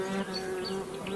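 Honeybees buzz steadily around a fruit orchard on a farm by a river, a close, continuous drone with shifting pitch, heard without any talk.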